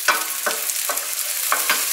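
Onion, garlic and peppers frying together in a pan: an even close sizzle broken by about five regular stirring scrapes, a brief, lively passage with no speech.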